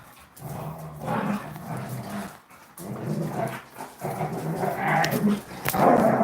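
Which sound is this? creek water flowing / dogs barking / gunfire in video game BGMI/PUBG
dogs barking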